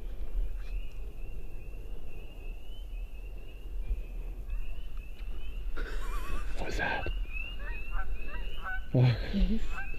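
A few honking bird calls ring out in the middle and near the end, against steady outdoor background noise, with faint voices nearby.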